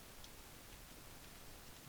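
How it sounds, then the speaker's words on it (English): Rain falling in the video game ArmA 2, a soft, steady hiss of pattering drops with no other sound, continuing evenly for two seconds. "Started raining."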